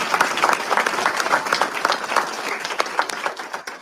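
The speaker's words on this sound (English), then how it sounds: "Let's give them all a round of applause." At a township inauguration ceremony, an audience breaks into applause, many hands clapping with distinct sharp claps standing out, gradually thinning toward the end.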